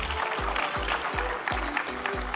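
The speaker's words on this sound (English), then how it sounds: "let's give them a round of applause" Steady applause from a conference audience at the South Africa Investment Conference, a dense continuous patter of many hands at even volume, with a regular low thumping running underneath.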